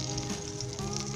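Desi ghee melting in a pan or kadhai for barley halwa, giving a brief, continuous close-up sizzle and crackle without any talking.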